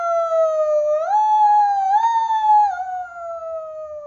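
A single voice imitates a fire truck siren, a loud sustained wail that rises, dips and rises again, then slowly falls over about four seconds.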